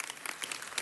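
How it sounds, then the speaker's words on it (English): An audience at a city council meeting claps in a round of applause, a dense, even patter of many hands, brief and moderately loud. "Give them a round of applause."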